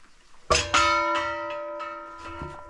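A homemade bell cut from a propane or oxygen bottle rings with two quick strikes and a later third, each a bright metallic clang that leaves a long, clear, sustained tone decaying slowly.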